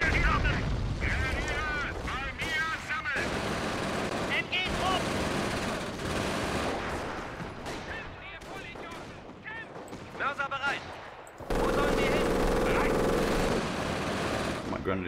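Infantry gunfire in the WWII strategy game Company of Heroes Blitzkrieg, with dense rattling rifle and machine-gun bursts and heavy booms in a continuous loud battle mix. Someone talks over it.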